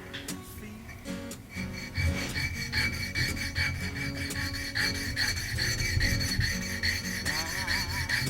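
A small plane iron is rubbed back and forth on DMT diamond sharpening stones at a workbench, making a close, continuous rasping scrape in steady repeated strokes with no voices.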